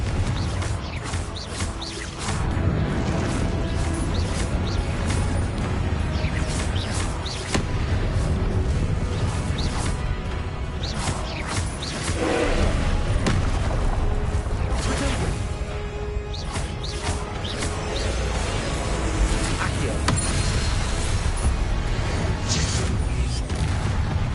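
Repeated Confringo fire-spell blasts in Hogwarts Legacy on PS5: booming explosions and whooshes recur throughout a dense, loud combat soundscape lasting over twenty seconds.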